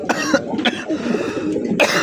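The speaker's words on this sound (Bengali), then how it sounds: "একটু কাশি এসে পড়ছে" A person coughs several times in quick succession, harsh and close, with throaty rasping between the bursts.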